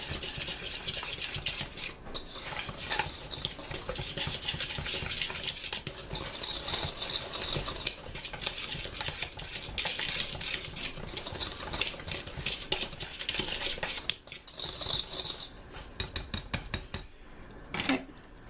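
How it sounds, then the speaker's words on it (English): A spoon or whisk works vanilla, eggs and milk into gluten-free cinnamon roll coffee cake batter, giving fast rhythmic scraping and clinking against the bowl that runs steadily and close, swelling in bursts, with no voices. "Okay, let's mix this together."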